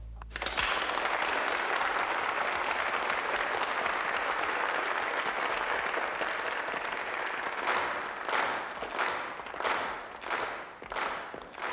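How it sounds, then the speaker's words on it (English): A crowd breaks into a full round of applause that holds steady and loud, then thins into scattered separate claps and fades toward the end. "So put your hands together and give yourselves a round of applause."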